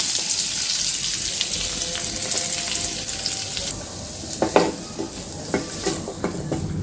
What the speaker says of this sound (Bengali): এখন দিয়ে দিলাম পেঁয়াজ কুচি, কাঁচামরিচ।